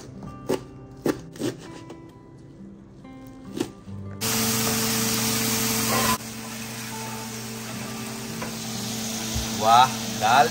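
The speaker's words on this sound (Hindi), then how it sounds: "वाह, दाल तड़का" Dal tadka tempering sizzles in a pan in a home kitchen. A few clinks and taps come first, then a sudden loud hiss that settles into steady frying.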